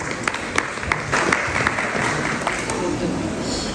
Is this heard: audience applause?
yes